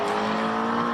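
A McLaren MP4-12C V8 race car from 2013 drives a hillclimb course with a loud, strained engine note that holds steady, close by and without talk.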